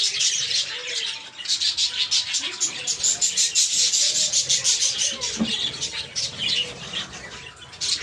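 Australian budgerigars chirp rapidly and flap their wings in a busy, continuous twittering chorus up close, while a person speaks over them.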